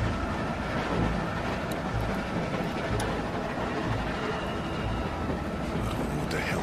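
Moving train in The Walking Dead video game: a steady, dense rumble of wheels and carriage noise running continuously without breaks.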